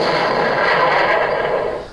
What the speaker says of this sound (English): Sounds like a big mortar cannon or something.